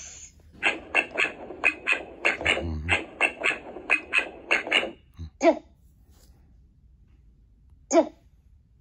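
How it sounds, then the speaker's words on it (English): A rapid series of about a dozen raspy duck quacks, close and loud, followed by a pause and two more isolated quacks. "Ducks."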